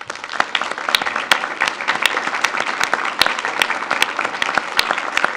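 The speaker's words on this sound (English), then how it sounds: "stand up and let us give you a round of applause" Audience applause at a school board of education meeting, a steady wash of many hands clapping with sharp individual claps standing out, moderately loud and continuous throughout.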